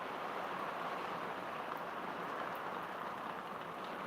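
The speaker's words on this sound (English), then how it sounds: "It's raining like a bitch." Steady rain falls outdoors in a continuous, even hiss of drops on surfaces, moderately loud and unbroken throughout with no voices.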